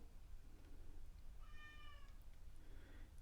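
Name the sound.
cat meowing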